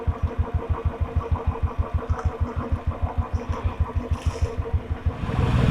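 A motorcycle engine idles with a fast, even thumping pulse at close range, then begins to rev up as the ride starts, with faint traffic noise behind it.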